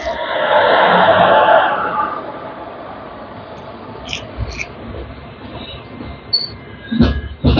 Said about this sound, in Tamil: மக்தான் ஜங்ஷன் டு கோயம்புத்தூர் வரக்கூடிய குர்லா எக்ஸ்பிரஸ்ங்க.